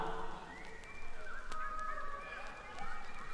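People imitate bird calls with their voices, giving squawking, gobble-like cries over a steady, droning musical backdrop, with louder bursts coming and going.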